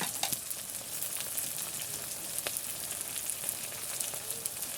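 Ginger-garlic paste and cumin sizzle and crackle steadily in a hot pan, with a continuous bright frying hiss and occasional scraping stirs, close and fairly loud with no talking.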